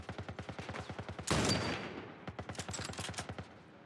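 Rapid gunfire in The Last of Us video game, a fast rhythmic string of close shots with one heavier blast partway through, then the quick firing resumes, with no talking.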